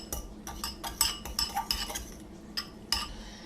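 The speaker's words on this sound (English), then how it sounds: "And we're just going to stir to combine." Mozzarella cheese and a whole egg stirred together in a bowl, a quiet series of light metallic clinks and taps from a utensil striking the bowl's sides at an uneven pace.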